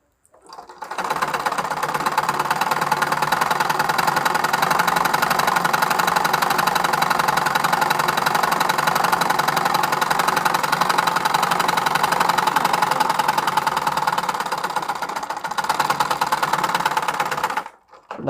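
A sewing machine runs close and loud in one long, continuous burst of rapid mechanical clatter, back stitching at the start, before stopping abruptly.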